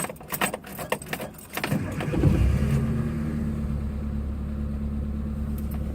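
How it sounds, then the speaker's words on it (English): A Suzuki Samurai with a weak starter motor gives a few clattering clicks and a laboured crank, then the engine catches with a rev and settles into a close, steady idle. "Just gonna start the Samurai up and hope I can get home."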